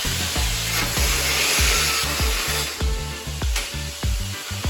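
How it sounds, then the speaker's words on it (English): Steel rebar is cut into short pieces with a power tool, giving a loud, close, rhythmic rasp of repeated strokes, one after another with no break. "For this I'm cutting the rebar into several short pieces."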